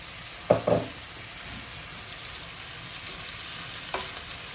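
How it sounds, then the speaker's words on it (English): Pork stir-frying in a wok with soy sauce, giving a soft steady sizzle with a couple of sharp spatula scrapes near the start and another near the end. "Continue to stir. The reason why it's called stir fry is just you never stop stirring."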